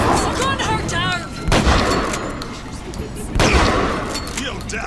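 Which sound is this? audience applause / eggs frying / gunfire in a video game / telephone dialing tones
gunfire in a video game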